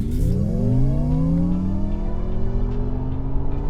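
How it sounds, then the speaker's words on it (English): An MG Cyberster electric roadster in super sport mode launches hard, its drive whine climbing steadily in pitch as it accelerates, loud and close with no talking. "Crossing 100 in just over 3 seconds, that's how fast the Cyberster is."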